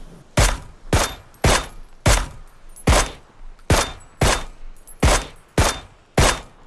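Gunfire in the video game PlayerUnknown's Battlegrounds rings out as about a dozen loud, evenly spaced single shots at a steady rhythm. Each shot is sharp and close, and no one talks over them.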